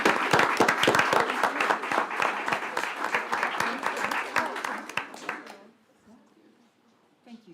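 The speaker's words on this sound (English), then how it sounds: "And let's give them a great big round of applause." At a school board meeting, the audience gives a big round of applause with loud, dense, close clapping that continues steadily, then stops abruptly, leaving a quiet room.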